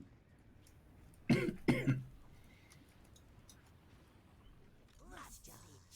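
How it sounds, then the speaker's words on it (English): Two sharp coughs close to the microphone, followed later by throat clearing and faint chatter from a Total War: Warhammer II gaming session. "Cough, cough, cough."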